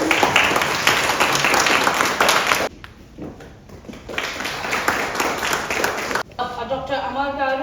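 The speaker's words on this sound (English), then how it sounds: "Round of applause." An audience at an education seminar gives a round of applause. The clapping is loud and sustained, drops briefly in the middle and then resumes, and a voice or music is heard near the end.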